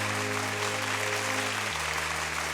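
Dense, continuous applause at a school annual day celebration, evenly loud and unbroken throughout, layered over a steady low electronic hum that shifts pitch partway through.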